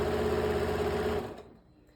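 A sewing machine back stitches a tote bag seam in a short, close, steady whir that stops abruptly and fades into quiet.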